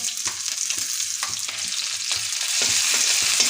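Grated ginger, chopped garlic and a finely chopped green chili sizzle steadily in hot oil in a pan, with close scraping stirs and clinks of a spoon over the frying hiss, which grows louder near the end.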